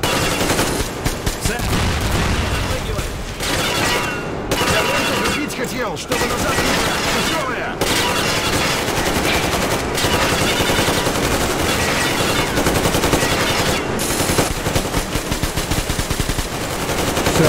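Dense bursts of automatic gunfire in the video game Metro Exodus Enhanced Edition rattle almost continuously, loud and close, with a few brief pauses between volleys.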